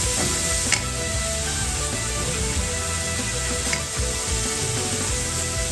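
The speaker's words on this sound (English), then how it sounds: "I'm going to add in my garlic. Going to cook that about 1 minute." Garlic frying in a pot over softened onions and leeks for an Irish lamb Guinness stew, a steady close sizzle with soft stirring scrapes and a couple of brief clinks.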